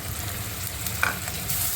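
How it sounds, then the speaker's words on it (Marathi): Sliced onion fries in hot oil in a kadai, giving a steady close sizzle with stirring underneath and one brief scrape of a spoon against the pan. "त्यामध्ये आता हा कांदा खरपूस रंगावर भाजून घ्यायचा आहे"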